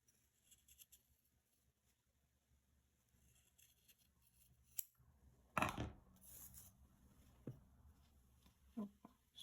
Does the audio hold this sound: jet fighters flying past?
no